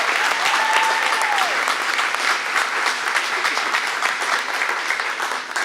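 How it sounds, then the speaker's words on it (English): A banquet audience at a community awards event applauds the award finalists, with sustained dense clapping from a large crowd, loud and even throughout, with a faint voice briefly audible underneath. "Let's clap for them, yeah."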